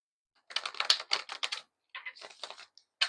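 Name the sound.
shuffling tarot cards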